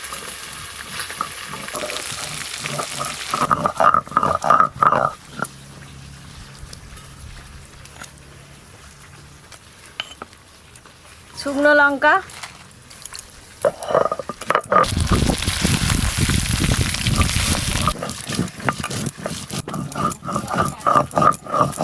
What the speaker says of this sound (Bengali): ভেটকি মাছের কাঁটা একটু কড়া করে ভাজবি।